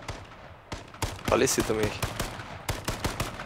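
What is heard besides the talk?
gunfire in video game H1Z1 Battle Royale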